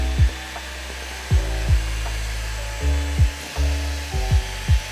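Xiaomi Mijia portable vacuum running with a steady motor hum while trying to suck up leaves, with repeated brief scraping rustles and bumps as the nozzle hits the leaves.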